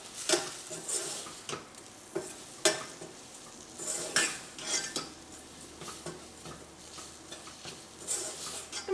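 Onion and garam masala mixture being stirred in a sizzling pan for Kerala beef masala, with repeated scraping and clanking of a metal spoon against the pan over a constant frying hiss.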